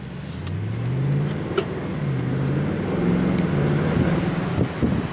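A 2021 Audi S8 with a V8 and 8-speed transmission, set to dynamic mode, accelerates on a drive; the engine note rises smoothly through gears under wind rush, heard from inside the car.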